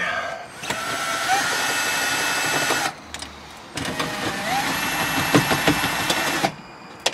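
Power tool whirring while backing out 8mm bolts from a Honda Civic dash panel, two sustained high whining runs with a short pause between, close up, with faint clicks and rattles.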